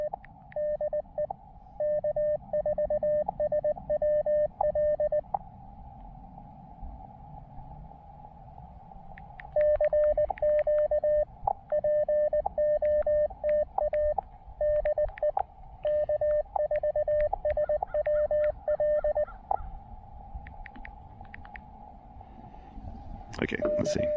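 An Elecraft KX2 radio sends a text message as bursts of steady electronic tones and beeps, repeating in rhythmic groups with pauses between, loud and close.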